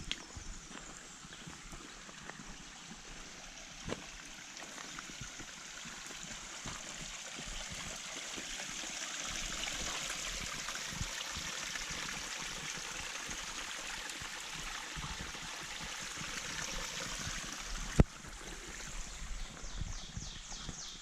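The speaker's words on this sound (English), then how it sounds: "Waterfall." Waterfall beside the Appalachian Trail, a faint continuous rush of falling and trickling water heard from some distance, with occasional footsteps and small knocks over the steady flow.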